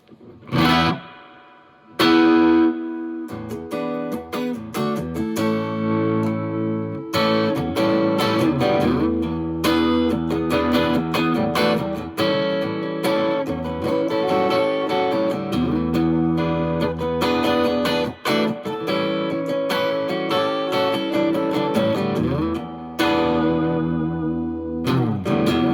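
An electric guitar played through a small India-built Tiny Marshall JMP amp with its reverb turned up deep, strummed distorted chords and riffs ringing with thick, lingering reverb tails, loud and continuous.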